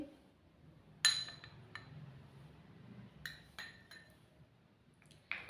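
A spoon clinks sharply against a bowl while scooping instant coffee powder, a few distinct light taps spaced apart over a quiet room background.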